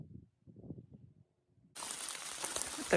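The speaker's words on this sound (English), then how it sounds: "The rain has returned." Quiet talking gives way to a sudden, steady hiss of rain pattering close by on the Appalachian Trail, continuing to the end.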